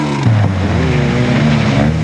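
A saloon race car at a South African endurance race roars past with a loud, sustained engine drone that holds steady and rises slightly in pitch, with no voices.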